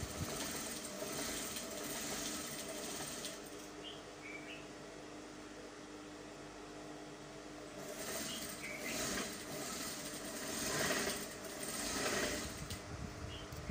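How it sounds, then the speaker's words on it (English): A sewing machine stitches crinoline (horsehair braid) onto a 720 peplum flare with a half-inch seam, running as a steady continuous hum that swells louder toward the end, with no talking. "then you start to sew."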